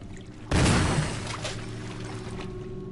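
Water sloshing and pouring in Resident Evil HD Remaster, a sudden loud splashing burst that starts abruptly, then settles into a steady rushing wash under a low game hum.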